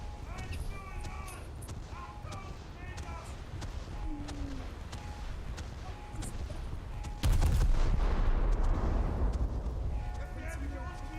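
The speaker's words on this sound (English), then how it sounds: "They're also shooting, so..." Gunfire and explosions from the video game War Thunder sound under ongoing talk, with scattered distant shots followed by one loud, booming blast partway through.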